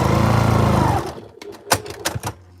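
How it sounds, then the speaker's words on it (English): A sewing machine runs steadily for about a second, stitching yellow and umber fabric pieces together in a straight seam, then stops; a few sharp clicks and handling sounds follow. "I'm sewing from there to there in a straight line."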